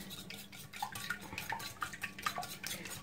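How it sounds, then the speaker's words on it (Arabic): Eggs seasoned with salt and spices being beaten in a bowl, a fast run of light clinking utensil taps against the dish, moderately close and steady, with no talking. "الان حبيباتي غادي نخوض البيضات، درت فيهم شويه الملح وشويه الابزار"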